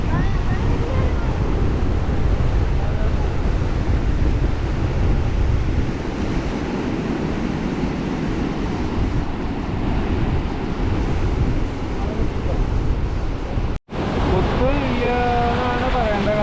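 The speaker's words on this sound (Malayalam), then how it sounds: "ഇന്ന് നല്ല കാറ്റാണ്" Strong wind roars across the seashore at Kasaragod, buffeting the microphone with a loud, continuous rush over breaking surf, and people talk faintly underneath near the end.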